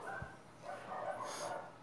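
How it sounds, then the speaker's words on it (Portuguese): A dog barks at a neighbour's cat, the short yaps faint and distant, spread across a quiet stretch with no talking. "Ela tá latindo por causa de um gato"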